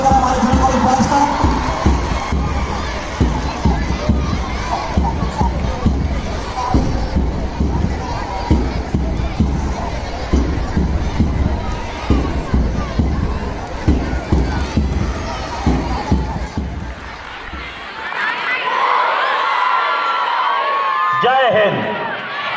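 An outdoor crowd claps and cheers at a high school and junior college annual sports inaugural function, dense sustained applause with scattered whoops that fades out near the end, under an announcer's voice.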